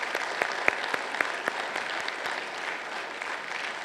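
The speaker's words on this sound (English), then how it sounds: "please let's give them, outside they can hear our applause" Audience applause at a law school swearing-in ceremony: steady, dense clapping from a large crowd indoors, sharp individual claps standing out near the front, holding at an even level throughout with no speech.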